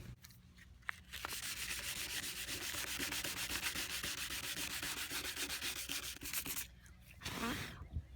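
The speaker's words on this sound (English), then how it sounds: "So we're going to take a very fine sandpaper. This one is 220, and we're going to get sanding." Fine 220-grit sandpaper rubbed steadily over a surfboard during ding repair, a continuous close scratchy hiss for several seconds with a brief pause near the end.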